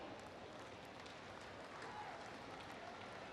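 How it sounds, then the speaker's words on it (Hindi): Steady, dense applause from a crowd at a government foundation-stone and project inauguration ceremony, sustained clapping throughout with a faint voice under it. "तालियां बजती रहनी चाहिए"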